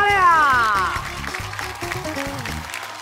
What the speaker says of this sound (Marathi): Very good. टाळ्या.